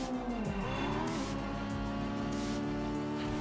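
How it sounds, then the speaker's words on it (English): A small inline-four car engine in the Midnight Club II racing game revs hard and high, a loud sustained whine climbing in pitch, with tire squeal mixed in and no talk. "you can hear the little inline 4 of this thing absolutely revving up it to insanity"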